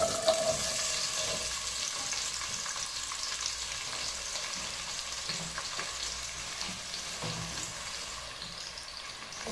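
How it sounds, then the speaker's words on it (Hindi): Onions fry in hot oil with a steady, close sizzle and a faint crackle that runs the whole time. No voices. "अभी हम इसमें प्याज डाल देंगे,"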